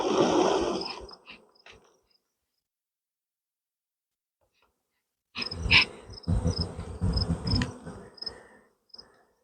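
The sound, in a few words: honey bees buzzing around a hive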